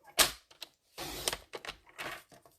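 Paper trimmer or cutter slicing card stock down to size for an emboss resist card, a few sharp scraping cuts and slides close by, with short pauses between strokes.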